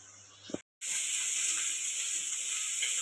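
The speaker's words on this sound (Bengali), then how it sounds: "তো পটল ভাজা হচ্ছে এখন।" Pointed gourd (potol) frying in a pan gives a loud, steady hiss and sizzle after a brief silent gap, with a faint clink just before.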